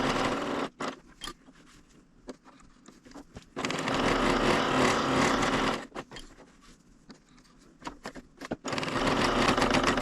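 A Bernina serger whirs steadily while stitching around a crochet edge, its rapid mechanical hum starting and stopping in short bursts, then running in longer continuous stretches up close.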